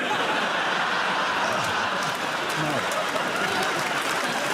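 Studio audience applause on a British comedy panel show, a dense steady wash of clapping filling the whole stretch with some laughter mixed in.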